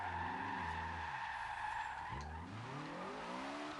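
Tires of a VW Corrado squeal and skid in Forza Horizon 2, a loud sustained screech over steady engine drone, with the pitch dipping briefly mid-slide before picking back up.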